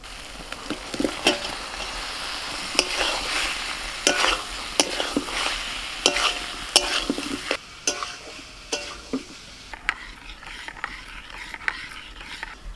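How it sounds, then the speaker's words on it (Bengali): Fried potatoes, young jackfruit and prawns stirred into spiced masala in a pan for a Bengali thali dish, a loud continuous sizzle broken by repeated scraping spatula strokes and clacks. "এখন ভেজে রাখা আলু, এঁচোড় আর চিংড়ি মাছটা দিয়ে দেবো।"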